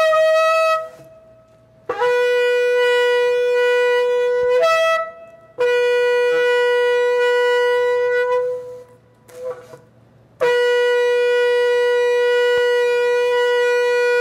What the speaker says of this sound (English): Oh, it sounds like this on the shofar.